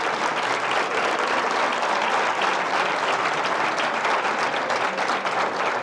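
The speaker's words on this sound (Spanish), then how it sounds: "Mira, no aplaudan mucho que sigo" An audience applauds a history lecture on an altarpiece in a hall, giving dense, even, sustained clapping from many hands with no pauses, heard close and filling the room.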